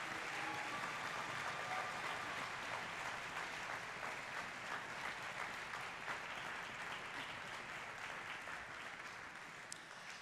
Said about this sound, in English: if we could give our seniors, our graduating seniors, a big round of applause